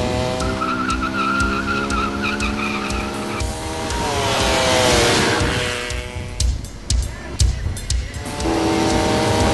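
Yamaha VMAX super bike engine roaring loudly with shifting pitch, a tonal howl that rises and falls alongside tire-squeal-like noise, with no talk.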